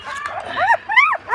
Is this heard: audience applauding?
no